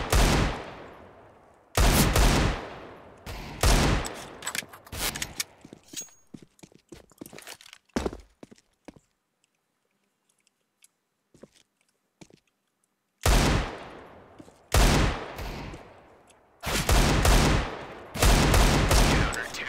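Desert Eagle pistol fire in CS:GO, heavy single shots in scattered bursts with quiet gaps between them, loud and close.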